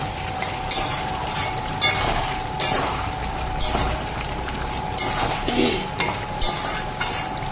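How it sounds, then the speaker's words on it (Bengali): Meat curry sizzles steadily in a pan while being stirred, a constant frying hiss broken by repeated scraping strokes of the spoon at a close, even level. "মাকে ঢাকনাটা তুলে দিলাম আবার একটু ঘেটে তারপরে ঢেকে দেবো"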